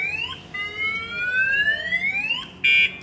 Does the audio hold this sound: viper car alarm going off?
yes